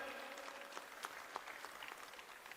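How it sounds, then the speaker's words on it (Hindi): Audience applause at an All India Karate Championships event ceremony, a soft distant patter of many hands clapping with a few sharper individual claps standing out. "जोरदार तालियां हो जाएं।"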